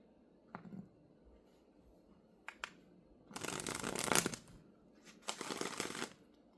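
A deck of oracle cards is handled, with a few light taps, then two quick riffling shuffle bursts in the second half, close and soft in a quiet room with no talk.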